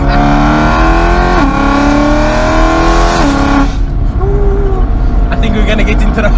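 A straight-piped BMW E93 M3 V8 revs hard and loud nearby, rising engine pitch climbing through several pulls before dropping off, with people talking over the roar.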